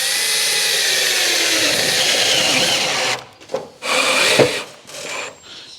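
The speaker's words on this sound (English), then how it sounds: "I'll get a couple of tech screws and screw these two panels together." A power drill driving tek screws to join two metal panels of a bonnet scoop on an FJ45 Land Cruiser restoration, a steady loud whir for about three seconds, then short stop-start bursts.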